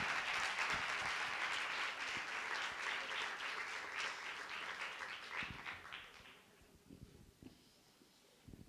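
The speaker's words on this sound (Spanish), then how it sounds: "Un gran aplauso." A conference audience gives a sustained round of applause welcoming a speaker, broad and even at first, then thinning out and fading over the last few seconds into scattered claps and room noise.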